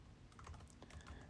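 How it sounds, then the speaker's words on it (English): Quiet, rapid tapping on a computer keyboard, typing a software name into a web search, with a steady run of soft clicks close by over about a second and no talking. "We're going to type in ASTAP."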